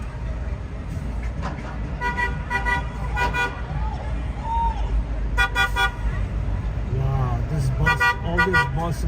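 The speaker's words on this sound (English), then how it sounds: "all this bus is doing is beeping the horn" A city bus in New York traffic beeps its horn again and again in short bursts of toots, standing out clearly over steady road noise, with people talking in between.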